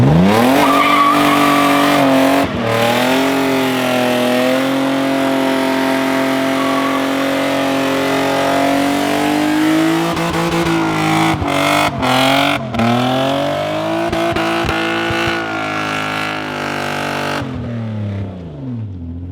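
A cheap BMW E28 M5 accelerates hard, its engine revving loud and close through rising pitch sweeps with gear changes and tire squeal, then dropping off at the end.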